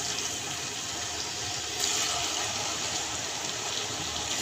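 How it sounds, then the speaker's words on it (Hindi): Pieces of taro root (arvi) frying in hot oil give a steady, fairly loud sizzling hiss that holds evenly throughout and swells slightly partway, with no talk over it. "अरवी को मैंने ऑयल के अंदर डाल दिया।"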